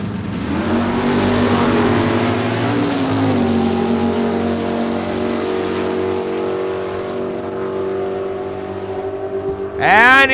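An Oldsmobile Cutlass 442 drag racing down a raceway strip, a loud sustained engine roar with steady harmonic drone that shifts pitch briefly midway, then a second engine revs sharply near the end.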